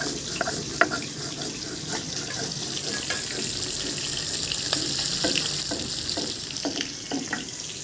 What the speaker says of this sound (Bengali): আর ওদিকে মাছ ভাজা হচ্ছে।